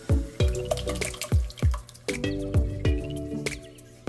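Water added to an emptied jar of Rao's marinara sauce to rinse out the leftover bits, giving a run of close, wet sloshing and dripping splashes in an irregular rhythm.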